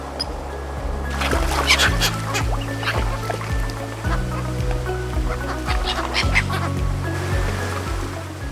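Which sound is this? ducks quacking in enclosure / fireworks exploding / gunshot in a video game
ducks quacking in enclosure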